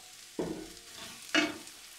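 Two sliced onions hit hot olive oil in a pan, two short bursts of sizzling about a second apart over a quiet background.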